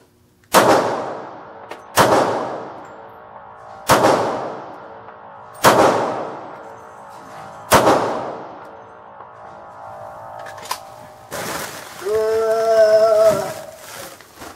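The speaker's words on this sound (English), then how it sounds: "So I shot 5 rounds." A handgun fires five sharp shots at a target, evenly spaced about two seconds apart, each a loud crack with a ringing decay, followed by a faint clatter and hum.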